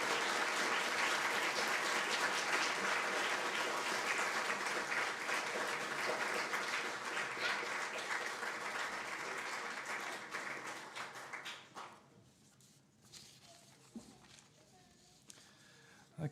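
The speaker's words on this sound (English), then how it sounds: "So let's give a big round of applause to all these donors." Sustained audience applause at a temple opening ceremony honouring donors, dense and loud for about eleven seconds before tapering into scattered claps and quiet room noise.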